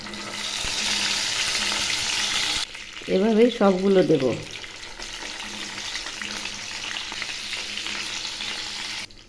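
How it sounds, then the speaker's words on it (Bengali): Eggplant slices frying in hot oil in a pan for doi begun: loud continuous sizzling, cut off midway while someone speaks briefly, then a quieter sizzle resumes and runs to the end. "তেল গরম হয়েছে এবার বেগুনগুলো ছেড়ে দিচ্ছি"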